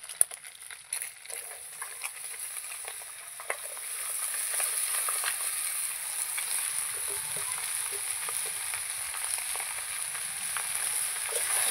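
Hilsa fish heads and chopped bottle gourd frying together in a pan for lau ghonto, giving a soft, steady sizzle with light stirring scrapes that grows fuller after a few seconds, with no talk.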